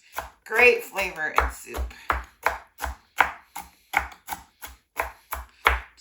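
A knife rough-chops celery leaves on a board in a steady run of crisp, evenly spaced thuds, close and clear, with a brief spoken comment at the start.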